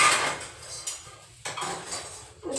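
A metal strainer is lifted from among kitchen utensils, giving a few brief clinking, scraping metallic clatters close by in a home kitchen, with no talking.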